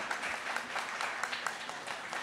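Applause from an audience at a presentation event rises as a continuous, moderately loud ripple of many hands clapping, with individual claps flickering through the steady mass for a couple of seconds.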